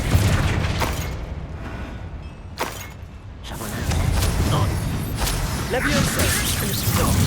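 Spell blasts from Hogwarts Legacy's Confringo explosion curse, a run of heavy booming bursts with rumbling low end spread across the clip, loud and mixed with game combat noise.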